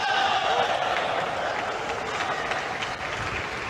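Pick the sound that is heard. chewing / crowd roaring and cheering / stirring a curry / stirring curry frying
crowd roaring and cheering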